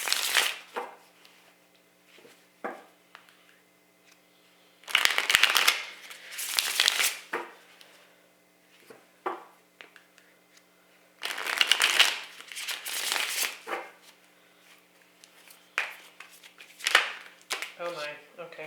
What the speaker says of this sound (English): I'm going to pull a couple of tarot cards to go with that.